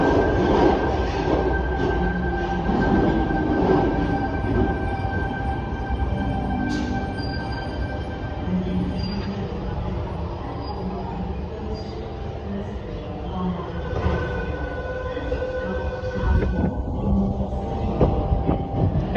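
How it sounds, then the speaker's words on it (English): A Sydney Trains electric train pulls out of underground Martin Place station, giving a continuous loud rumble with faint wheel squeals and rail clicks echoing in the tunnel platform. "this train's leaving"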